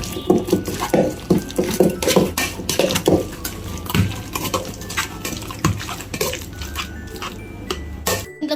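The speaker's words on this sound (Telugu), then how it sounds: "ఇది పసుపుని బాగా దీంట్లో మిక్స్ చేసుకోవాలి." Turmeric and salt being mixed into food in a pot, with repeated metal spoon clanks and scraping against the vessel in an irregular rhythm, close and fairly loud.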